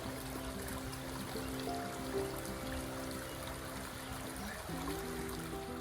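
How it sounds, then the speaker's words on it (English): Gentle creek water trickles and babbles steadily at a distance, faint and continuous, with a low engine-like drone underneath. "It's a real pleasant sound right there if you can hear the water."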